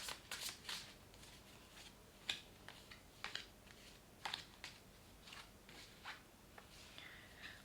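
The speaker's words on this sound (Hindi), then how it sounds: "Okay, one last shuffle." Tarot cards shuffled by hand in a quiet room, a run of soft riffling bursts and sharper snaps at irregular intervals, close and fairly faint with no talk over it.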